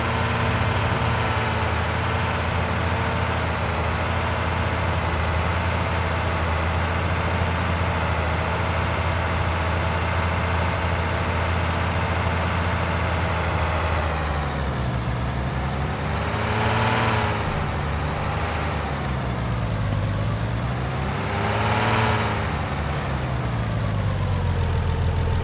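A Case IH 4166 4WD tractor engine in Farming Simulator 19 runs with a steady, loud diesel drone, its pitch dipping and rising twice near the end as the revs change, with no talking.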